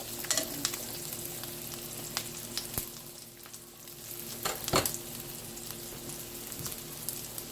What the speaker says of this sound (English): Let me turn the audio up and you can hear that sizzle.